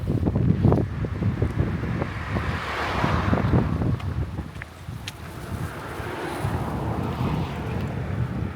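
Strong, cold wind near Mount Fuji roars steadily into the microphone and buffets it in continuous gusts, with no voices.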